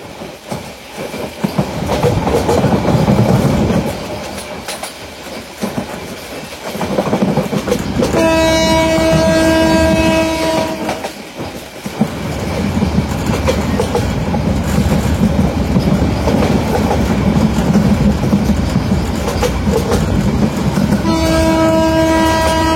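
The Titas commuter train runs along the track in Kishoreganj, Bangladesh, with a loud continuous rumble and rhythmic wheel clatter, while a horn sounds twice in long held blasts.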